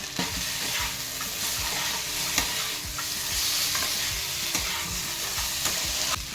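Green peas are tipped into a frying pan and stirred, giving a constant sizzle with repeated scraping strokes of a spatula against the pan at a steady rhythm.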